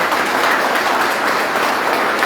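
A church congregation applauds during a Spanish-language worship service, producing steady, dense clapping that fills the room without a break.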